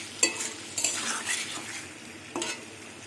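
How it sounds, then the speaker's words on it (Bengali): Cut taro and potato stir-fried in spice paste, with a spatula scraping the pan in a few distinct strokes over a steady close sizzle. "এবার এই মশলার মধ্যে কাটি কচু আর আলু ঢেলে দিলাম। মিনিট 2 কষিয়ে নেব।"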